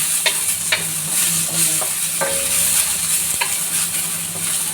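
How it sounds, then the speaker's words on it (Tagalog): Onion and garlic frying in a pan until browned, a steady close sizzle with scattered scraping stirs from a utensil, no voices. "Hanggang maluto, mag-brown ang ating sibuyas tsaka bawang."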